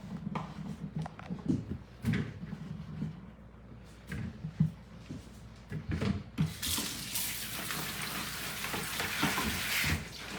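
Potatoes are rinsed under a kitchen tap, with faint splashing and handling noises that give way to a loud, steady rush of running water near the end.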